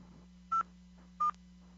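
Two short telephone keypad tones, star then six pressed to unmute a conference-call line, sound as separate clear beeps about two-thirds of a second apart over a low steady hum.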